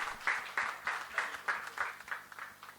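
An audience at a Border 2 trailer event claps in rhythmic unison, with steady, evenly spaced bursts of moderately loud applause and no talking.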